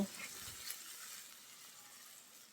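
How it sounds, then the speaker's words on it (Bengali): Shrimp seasoned with salt and turmeric lightly frying in a pan, a soft, faint, steady sizzle with a brief clink near the start, no voices. "চিংড়ি মাছটা হালকা একটু ভেজে নেব"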